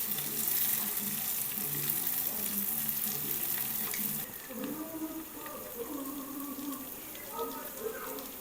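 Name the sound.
prawns frying in an open pan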